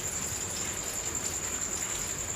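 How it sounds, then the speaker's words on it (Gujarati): Heavy rain falls at night as an even, unbroken wash of hiss, with a thin steady high-pitched tone running through it. "રાતના દસ વાગ્યાનો વરસાદ હતો"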